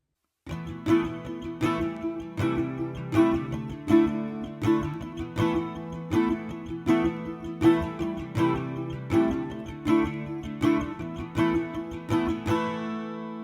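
Acoustic guitar plays a rhythmic strummed and percussive bridge part, steady repeated strokes with a slapped beat, close and clear with no voices.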